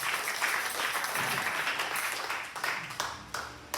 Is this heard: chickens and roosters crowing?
no